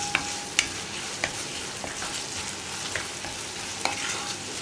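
Potatoes and cauliflower for aloo gobi curry sizzle steadily in a hot pan while a spoon stirs them, scraping and tapping in irregular strokes, close and moderately loud with no talking.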